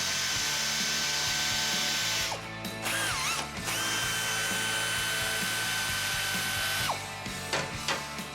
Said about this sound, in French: J'ai mis le ratchet à air ici.